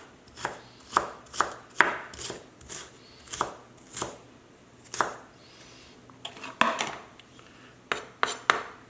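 A knife chops scallion and other vegetables on a cutting board for a steak and Brussels sprout stir-fry, giving a series of crisp, close, uneven thuds with short pauses between strokes.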